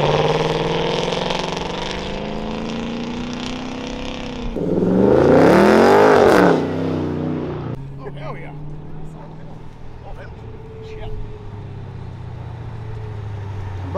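Mopar car accelerating away from a burnout pit at a Mustang car show, its engine revving and rising to a loud roaring pass before fading out, with people talking over it.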